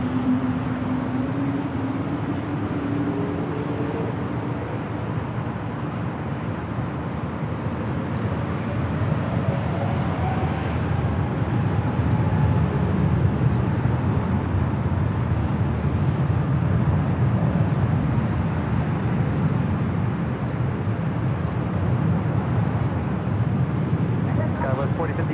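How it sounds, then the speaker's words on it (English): A Frontier Airbus A321neo spools up for takeoff on runway 24 left at LAX, a steady broad jet roar swelling louder partway through and holding, with radio talk over the top. "And this Frontier A321neo next up for takeoff on 24 left."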